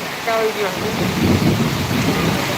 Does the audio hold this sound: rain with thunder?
yes